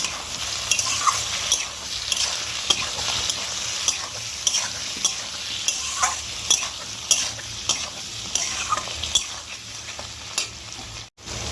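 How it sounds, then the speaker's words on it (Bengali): A spatula stirs turmeric, salt and Kashmiri chili powder through a pan that holds potato, with rhythmic scraping strokes over a light, continuous sizzle. "দু চামচ হলুদ গুঁড়ো দেব রঙের জন্য দু চামচ কাশ্মীরি লঙ্কা গুঁড়ো দেব দিয়ে ভালো করে নেড়ে নেব"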